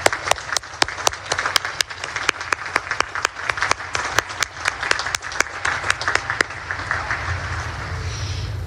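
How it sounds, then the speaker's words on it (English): Crowd applause at a Naval Academy graduation ceremony in honor of the graduates' parents: dense, sustained clapping with sharp individual claps standing out near the front, steady throughout and thinning slightly toward the end. "How about one more round of applause for our parents out there?"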